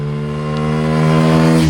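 A Bajaj Pulsar N250 motorcycle engine idles with a steady low harmonic exhaust drone, then revs up slightly toward the end, loud and close.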